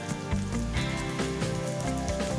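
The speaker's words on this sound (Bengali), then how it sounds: "এবার এগুলোকেও অল্প সময় নিয়ে একটু ভেজে নেব।" Cashews, garlic cloves and chopped ginger frying in oil with softened onions for a pepper chicken curry, a steady close sizzle and crackle running continuously with no voices.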